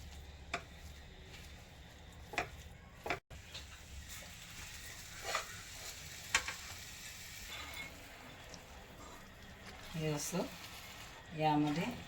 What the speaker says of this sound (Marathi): मिल्क पावडरचं गोल्ड घातलेलं आहे त्याला पूर्णपणे असं आता हलवत राहायचं